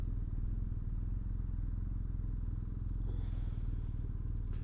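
An old 125cc two-stroke motorcycle putters past at a distance, a faint, steady low engine buzz with a rising hiss near the end, no voices.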